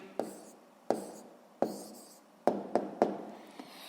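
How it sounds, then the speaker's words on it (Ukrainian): A pen writes down the answer to a sixth-grade math problem on paper, with about six quick, close scratchy strokes in an uneven rhythm against a quiet room. "записуємо тоді відповідь"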